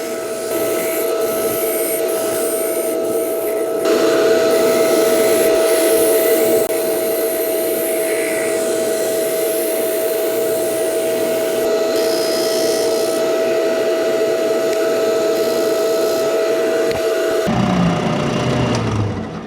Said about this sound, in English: now I'm going to do some sanding